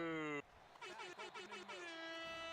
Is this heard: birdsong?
no